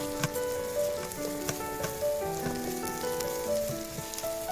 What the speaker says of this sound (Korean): 감자를 썰고 팬에 식용유를 넣고 감자를 넣고 살짝 볶아줍니다.